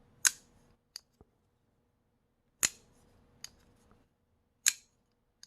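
Folding knife blade snapping into its locked position with a detent ball, sharp crisp metallic clicks at close range, a few isolated snaps separated by quiet pauses.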